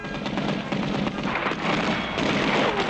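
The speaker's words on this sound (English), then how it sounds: "The bullets are bouncing right off him, Eel." Rapid cartoon gunfire rattles in a dense, continuous burst as bullets bounce off the animated superhero Underdog during an armored car robbery.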